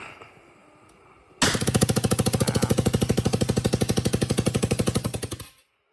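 A gun fitted with a long triple sleeve barrel fires as a rapid, steady stream of hard mechanical pulses lasting about four seconds, loud and close, rising sharply from a quiet background and then dropping off abruptly.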